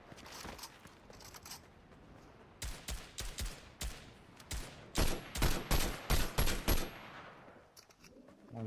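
Bursts of video-game gunfire, first scattered single shots, then a rapid run of loud, evenly spaced shots near the end, with no talk over it.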